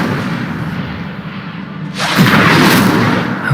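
An Incendio fire spell is cast in Hogwarts Legacy: a low rumble gives way to a sudden loud whooshing burst of flame that roars on for over a second.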